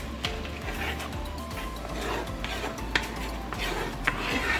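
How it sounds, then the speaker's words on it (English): Honey garlic salmon sauce with soy sauce, cayenne and honey stirred in a pan, producing soft scraping and occasional light clinks of a utensil against the pan, fairly quiet with no voices. "Stir, stir, stir."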